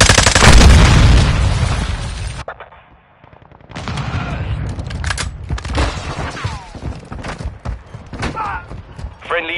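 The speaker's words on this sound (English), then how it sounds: "Grenade!" Combat in Call of Duty: Modern Warfare II on PS4, with a loud burst of gunfire and blasts up front, then a brief lull and scattered shots, thumps and radio callouts, including a possible grenade explosion, amid game voices.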